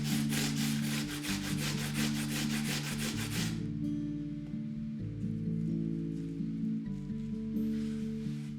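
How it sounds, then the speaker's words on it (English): A peeled beet rubbed against the medium holes of a grater, giving a steady, close rasping scrape in quick repeated strokes that runs the whole time with no talking. "Grate it on the medium holes of the grater as well."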